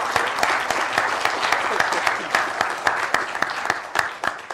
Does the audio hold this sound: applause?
yes